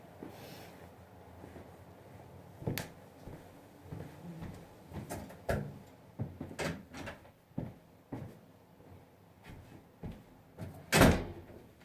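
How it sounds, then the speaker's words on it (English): An indoor door swings shut with a sharp, loud slam near the end, after a stretch of scattered softer knocks and handling clatter in a quiet room. "I gotta shut this door."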